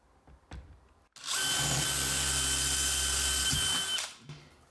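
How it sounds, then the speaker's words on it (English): An electric drill whirs steadily for about three seconds while boring anchor holes for a smoke detector, close and loud, preceded by a couple of faint knocks. "drill it out."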